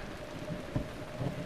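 Thunderstorm with steady rain in the video game The Legend of Zelda: Breath of the Wild, a continuous wash of rainfall with a low rumble of thunder swelling briefly midway and again near the end.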